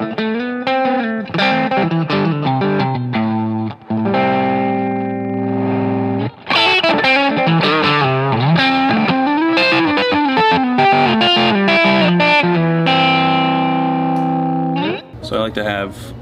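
An electric guitar in a guitar store plays through an amp in a split pickup position with the volume rolled down to 3, giving a nearly clean tone. The notes and chords ring out continuously, loud and close.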